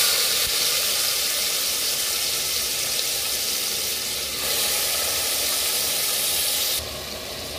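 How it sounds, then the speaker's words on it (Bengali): Whole garam masala spices dropped into hot oil for a mutton curry, sizzling with a steady, loud frying hiss that carries on unbroken and eases slightly near the end. "তেলের মধ্যে আমি গোটা গরম মশলা ফোড়ন দিয়ে দিলাম।"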